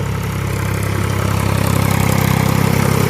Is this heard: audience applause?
no